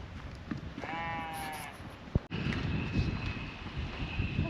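A livestock herd at feeding time beside Lake Titicaca in Peru gives one clear, drawn-out bleat over steady outdoor wind noise, followed by a sharp click and continued rustling.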